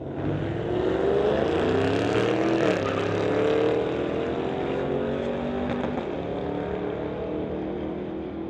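A 2014 Ford roars down the strip in a street legal drag race, a loud sustained engine note rising in pitch through the gears and filling the whole stretch with no talk over it.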